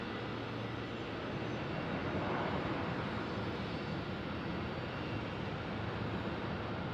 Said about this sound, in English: Valaris with the A320 Neo.